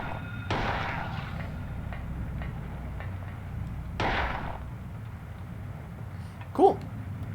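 Shotgun blasts in the Silent Hill 2 game: two sharp, loud reports a few seconds apart, each with a short decaying tail over a low rumbling background, followed by a brief tonal blip.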